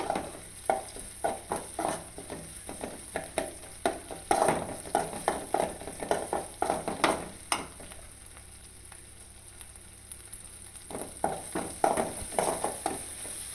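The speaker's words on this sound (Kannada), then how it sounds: "ಎಲ್ಲವನ್ನು ಚೆನ್ನಾಗಿ ಫ್ರೈ ಮಾಡಿಕೊಳ್ಳಿ ಎಣ್ಣೆಯಲ್ಲಿ" Garlic and curry leaves frying in oil for a sour wild-mango curry, a close sizzle broken by repeated scraping stirs in uneven bursts, quieter briefly in the middle, with no talking.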